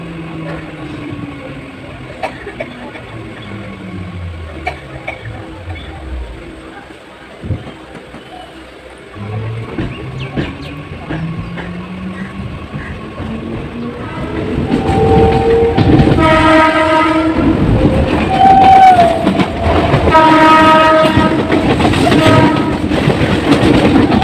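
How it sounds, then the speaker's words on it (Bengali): A train pulling out of Dum Dum Cantonment station: a steady rumble and rattle of rail cars rolling along, building louder and busier halfway through with clacking wheels and a brief horn, no talking. "এই যে দমদম ক্যান্টনমেন্ট ছাড়ছে এখন ট্রেনটা"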